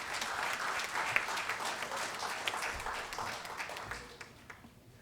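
An audience at a Parkinson's Day event applauds, many hands clapping in a dense, steady patter that gradually tapers off toward the end.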